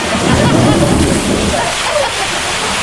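Water rushes and splashes down a waterfall at a water park in Khao Lak, Phang Nga. The sloshing is loud and close at first and settles into a steadier wash, with voices mixed in underneath.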